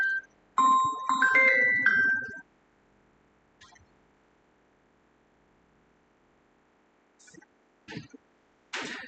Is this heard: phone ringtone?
yes